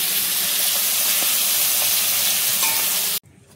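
Leafy greens with chopped potato fry in a pan, giving a loud, steady, close sizzle and hiss with faint stirring clicks that runs for about three seconds before cutting off abruptly to near quiet.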